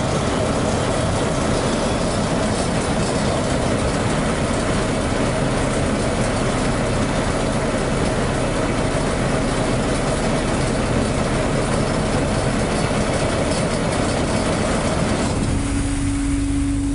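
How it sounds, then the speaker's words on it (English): The calibration motor of a Bourgault X20 seeder running, a loud continuous mechanical drone with dense rattling, steady before it cuts off near the end and leaves a faint hum. "So we'll turn our calibration motor on again."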